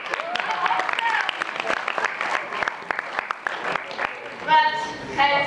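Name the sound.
audience applause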